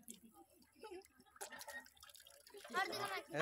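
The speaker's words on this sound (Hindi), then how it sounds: "देखो मैं पानी भर रहा इसमें है।" Water being poured into a container for goats, with soft intermittent splashing and trickling that grows louder toward the end, under quiet voices and background chatter.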